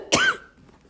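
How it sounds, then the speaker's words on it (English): A single sharp cough from a lecturer, close and loud, followed by a brief rasping tail and quiet. "I can't get rid of this cough."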